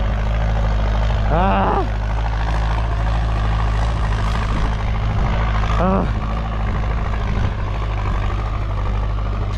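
A New Holland 6640 tractor plows a field with a loud, steady engine drone throughout, while a voice speaks briefly twice over the noise.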